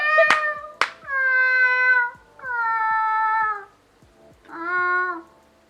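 A person imitating cat meows, several drawn-out nasal mewing calls in a row with a couple of sharp taps near the start, close to the mic with gaps between calls.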